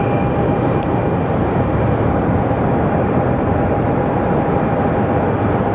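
Honeywell Aviation Embraer jet at Sky Harbor Airport, a loud continuous broadband roar with a steady high whine held throughout, no voices.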